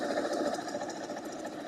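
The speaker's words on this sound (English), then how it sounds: "So I'm going to bring it over there and sew on that line." A sewing machine stitches fabric along a marked line, a steady close mechanical whir with a fast rapid chatter running continuously through the short stretch.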